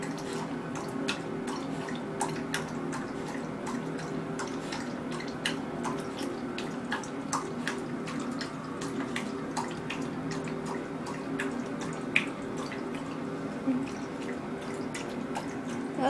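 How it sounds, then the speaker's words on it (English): A thirsty dog laps water from its bowl, a long run of quick, close wet laps and drips at a steady rhythm. "You drinking your water."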